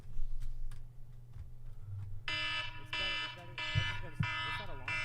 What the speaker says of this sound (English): What's that alarm for?